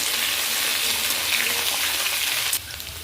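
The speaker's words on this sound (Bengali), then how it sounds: "আলুটা ভাজতে ভাজতে পেঁয়াজটাও ভাজা হয়ে যাবে।" Loud, dense sizzling of potatoes and onion frying in a pan, a steady crackling hiss that drops slightly in level near the end.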